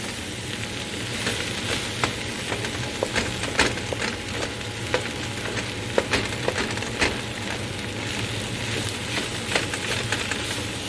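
Cooled leftover rice fries in a pan for egg fried rice, making a continuous close sizzle dotted with sharp crackles and pops throughout.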